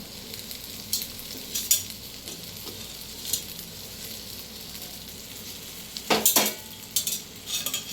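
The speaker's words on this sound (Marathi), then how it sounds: "आता ही भेंडी मी परतून घेतली होती ती मी या भेंडी फोडणीमध्ये टाकते" Low, steady sizzling of pre-fried okra added to a turmeric tempering oil, with scattered stirring scrapes and a louder clatter of utensils near the end.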